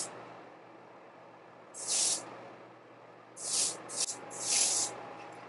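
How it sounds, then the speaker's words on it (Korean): Hairspray sprayed on short hair while it is styled into an updo for a hanbok, heard as three short hissing bursts. The first burst is single and the last two come close together, with quiet pauses between them. "스프레이 살짝 이렇게 보면서"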